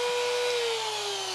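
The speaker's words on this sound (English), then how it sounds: "the welds get mostly sliced through with a grinder before we can switch to a Dremel for more precision" A Dremel rotary tool cuts through welds on a Triumph GT6 project car with a steady, high-pitched whine whose pitch sags slightly as it bites into the metal, close and continuous.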